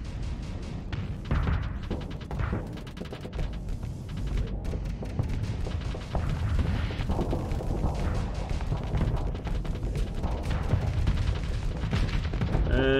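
Ballistic weapons in the Starsector space combat game fire continuously, boosted by an ammo feeder, in dense overlapping booms and cannon thuds that hold at a steady loud level for the whole stretch, with no talking.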